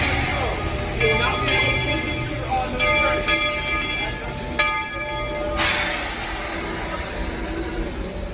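The Walt Disney World Railroad steam train at Magic Kingdom rumbles steadily nearby with a hissing, chugging texture, and a few brief whistle-like tones ring out over the noise.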